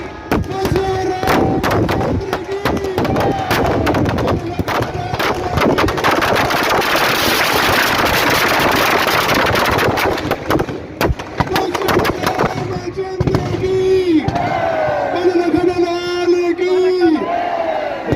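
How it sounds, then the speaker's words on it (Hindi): Rapid crackling bangs and pops of fireworks explode continuously, dense and loud, at a Dussehra Ravan Dahan in a stadium in Roorkee, while people shout and talk as the bursts thin out near the end. "देखिए बहुत सुंदर खूबसूरत नजारा आतिशबाजी का यहाँ पर।"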